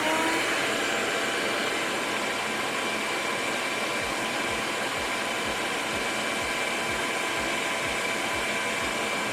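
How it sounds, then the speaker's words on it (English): A shop vac fitted with a noise-reduction modification runs steadily at close range, a continuous loud motor whine and airflow rush with a faint rhythmic low thumping throughout, no talking. "we started out with a shop vac that was measuring around 95 decibels"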